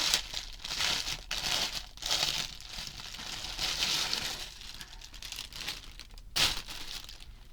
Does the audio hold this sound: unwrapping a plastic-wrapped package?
yes